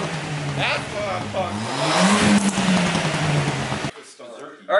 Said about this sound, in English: that's the install for the cat-back exhaust for the Ford Fiesta. I think it sounds pretty good